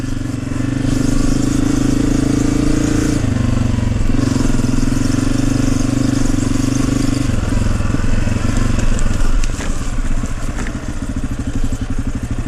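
A Honda CRF250F dirt bike rides a trail, its engine loud and close with a droning, slightly rough note that shifts pitch a few times as the throttle changes, with clattering underneath.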